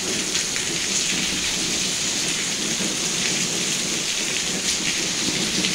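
Heavy rain pours steadily onto surfaces in the Trairi region of northeastern Brazil, with thunder rumbling beneath a dense, continuous hiss and no voices.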